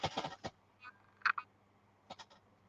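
An office chair gives a few short groany, croaking creaks in scattered bursts, close and fairly quiet against a low background hum.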